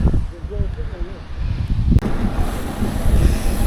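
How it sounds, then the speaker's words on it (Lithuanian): Steady wind buffets the microphone over a low, rushing wash of surf, with a faint voice briefly audible early on. "Čia vandenynas. Bet kur kas ramesnis."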